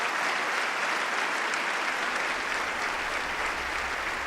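Audience at a live improv parody of a State of the Union address claps steadily, a dense, even wash of applause held at moderate level without talk.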